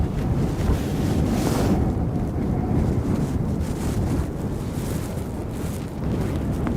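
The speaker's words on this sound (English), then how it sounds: "it's really windy" Steady, roaring storm wind in a massive open field at Aberdeen Airport buffets the microphone throughout, a dense low rumble that never lets up, with no voices.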